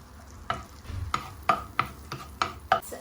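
Onion sautés in butter in a pan, with a soft sizzle under a series of sharp scraping stirs and clinks of a utensil against the pan, about eight strokes in quick, uneven rhythm.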